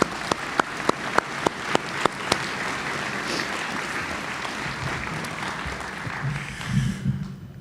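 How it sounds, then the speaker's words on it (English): Graduation ceremony audience applauding family members, opening with a few sharp, separate claps that quickly swell into steady, full applause filling the hall before tapering at the end. "let's give Mom and Dad and the rest of the family a round of applause"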